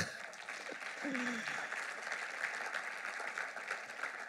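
A church congregation applauds and acclaims the Lord during a sermon on fasting, a steady wash of clapping and crowd noise running for several seconds with a brief voice near the start.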